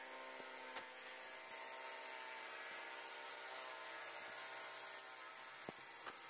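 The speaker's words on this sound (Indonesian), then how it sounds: "Ini menggunakan mata gerinda potong besi." An angle grinder fitted with a metal-cutting disc slices through 5 mm plywood, giving a steady, droning whine with a few sharp ticks along the cut; fairly quiet and alone, with no talk.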